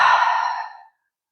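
A single deep yoga exhale through the belly, a breathy sigh heard close and clear, fading out after under a second into silence.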